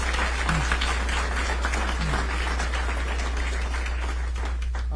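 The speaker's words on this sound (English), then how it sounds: "Mary Ann, I think you deserve an extra round of applause" Guests at a mayor's news conference for a relocation celebration give a round of applause, a steady patter of clapping over a constant low hum, with a few brief voices near the end.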